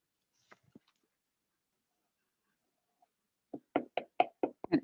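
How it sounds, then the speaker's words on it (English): A slipcase covering is knocked down to glue it, a quiet tap or two and then a quick run of five or six close, crisp knocks, with no talk. "I'm just knocking that in to glue it down right there in the back"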